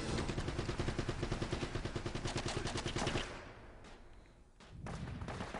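Rapid automatic gunfire rattles in a steady loud burst in the Uncharted video game, then cuts off and is followed by a couple of single thudding shots.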